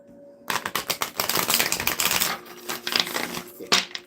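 A deck of playing cards is shuffled twice in quick succession, each riffle a dense, close burst of rapid crisp flutter and clicks, with a brief pause between them.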